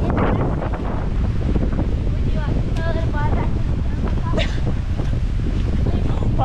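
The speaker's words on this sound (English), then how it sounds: "Windy today, blowing about 20 knots." Strong wind of about 20 knots roaring across a microphone aboard a boat at sea, a dense continuous rumble and buffet with surf beneath and a brief voice heard faintly under it.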